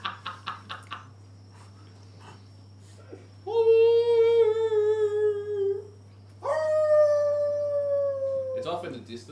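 Several people imitate wolf howls together, two long sustained vocal howls with rising then steady pitch, preceded by short yipping bursts, fairly loud and close over a low steady hum.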